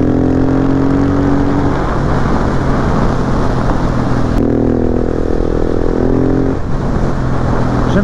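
A 2020 KTM 690 SMC R single-cylinder supermoto rides along, its engine droning loud and steady with pitch shifts as it changes speed, plus a brief dip near the middle, with wind rush throughout.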